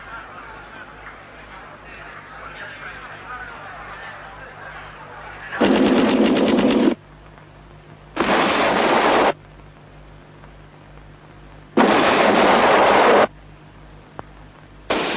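Bursts of machine gun fire ring out in a film about a massacre, several loud rapid volleys separated by pauses, with a softer crowd murmur and background sound in between.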